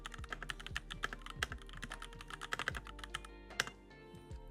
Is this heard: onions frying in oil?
no